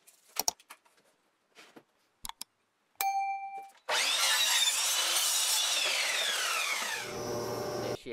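A saw cuts wood down to final lengths for shelves in a workshop, with a long loud continuous rasping cut after a few short knocks and a brief tone, no talking.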